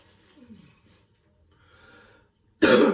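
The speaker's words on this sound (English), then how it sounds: "Still got this bloody cough." A single sharp, loud cough bursts out near the end after a few seconds of quiet breathing and faint movement.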